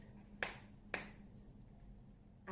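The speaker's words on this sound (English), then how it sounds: "2 claps." Two sharp hand claps in a quiet room, close and crisp, spaced about half a second apart, with a third starting at the very end.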